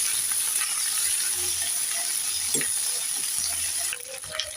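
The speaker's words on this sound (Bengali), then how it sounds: "প্রথমে আমি ঢ্যাঁড়সগুলোকে ভেজে নেব।" Okra fries in hot oil for a Bengali okra and potato curry, a soft continuous hiss and sizzle with faint crackles that drops slightly near the end.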